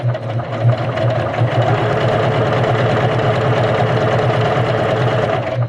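A Juki HZL-K85 sewing machine runs a regular straight stitch at rapid speed, giving a loud, steady mechanical whir with a fast, even needle rhythm throughout, close up and with no voices.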